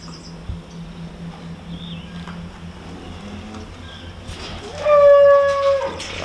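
Cattle moo on a farm during pregnancy checks, with a low bellow early and a louder, clearer call near the end over steady background noise.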